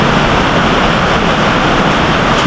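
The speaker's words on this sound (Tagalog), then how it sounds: "Biglang bumuhos na napakalakas ang ulan." Heavy rain pouring down in a sudden downpour, a dense, loud, unbroken roar of water that stays constant throughout with no other sounds standing out.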